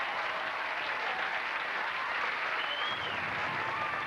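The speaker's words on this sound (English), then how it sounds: "I hear applause in the back of the plane" Continuous audience applause in a late-night television studio, a full, even wash of clapping that holds steady from start to finish with no voices over it.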